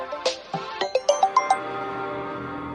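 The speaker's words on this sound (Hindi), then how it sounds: "बीच बीच में ये फोन आते रहते हैं।" A mobile phone rings in a Hindi film scene: a quick run of about eight bright electronic ringtone notes, close and clear, before the tone stops and only faint room sound remains.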